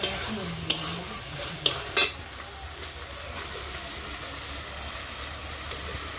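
Dried fish, chickpeas and taro fry quietly in a pan under a steady low sizzle, with a few sharp clinks of a utensil stirring against the pan in the first couple of seconds.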